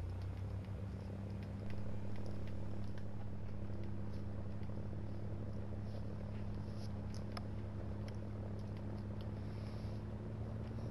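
The engine of a Fw 190D fighter in War Thunder's air simulator, throttled up to about half power, makes a steady, low droning hum with a faint rise in level early on.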